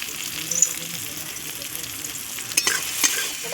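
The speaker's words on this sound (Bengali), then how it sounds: "পেঁয়াজটা ভাজা হয়ে গেছে" Onions and tomatoes fry in a pan, a soft continuous sizzle with a couple of sharper scraping stirs near the end, and no talking.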